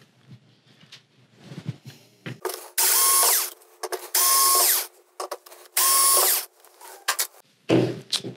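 Three loud, close bursts of an electric screwdriver removing screws while a Sony XBR-55A9G TV is taken apart, each a steady whir lasting about a second, with softer clicks and handling noises in between.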